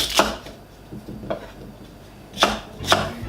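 Vegetables being chopped on a board with a knife: four sharp, close knocks at irregular intervals over a quiet background.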